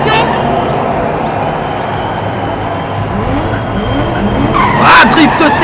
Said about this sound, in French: drift sévère de Rosy qui n'arrive pas à redresser sa BMW